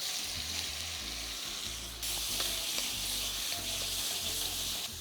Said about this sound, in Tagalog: hot wok, oil, add our pork